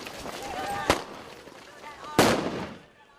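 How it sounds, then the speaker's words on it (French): Stun grenades and tear gas grenades going off at a non-violence protest in Hebron, heard as two sharp, loud bangs about a second apart, with people talking and shouting throughout. "Bombes sonores et grenades lacrymogènes"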